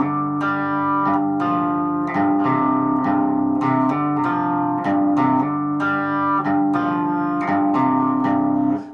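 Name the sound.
guitar playing a song slowly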